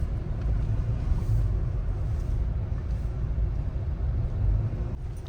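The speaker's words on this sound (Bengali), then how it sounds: "সব গাড়িগুলো লাইন দিয়ে দাঁড়িয়ে রয়েছে।" Cars crawl forward in a long roadside traffic jam near the Teesta river in Sikkim, giving a steady low engine rumble close by without a break.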